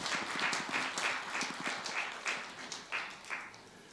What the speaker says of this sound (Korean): 우리 3040 많은 분들이 오셨는데 우리 박수 한번 쳐주죠.